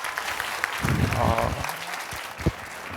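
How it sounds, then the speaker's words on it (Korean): Church audience applause breaking out briefly, a short burst of clapping that swells and then fades, with a voice heard over it. "우리 우선 전도사님께 우리 박수로"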